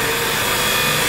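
A wooden box with crooked grain is trimmed on a lathe. A steady, loud, broadband scraping hiss of the tool cutting the spinning wood runs unbroken throughout.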